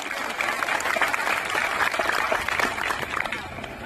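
A crowd at a devotional satsang gathering claps together, a thick continuous wash of applause with small swells, fairly close and with no talking.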